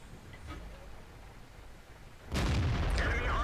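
A single booming tank cannon shot from an M18 Hellcat in a tank battle video game, landing sharply after a few seconds of low ambient rumble and then sustaining loudly to the end.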